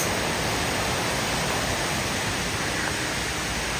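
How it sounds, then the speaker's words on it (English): Long Creek Falls in Georgia pours out a steady, unbroken broadband roar of falling water, constant and fairly loud throughout with no voices. "I can hear the falls."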